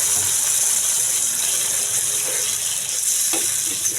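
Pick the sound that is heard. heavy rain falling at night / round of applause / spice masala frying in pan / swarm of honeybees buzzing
spice masala frying in pan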